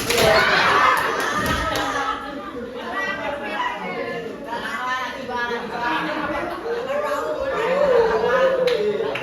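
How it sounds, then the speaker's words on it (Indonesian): Hands clapping amid a room full of chattering voices, with a few sharp claps and thumps standing out from the busy background talk. "Tepuk."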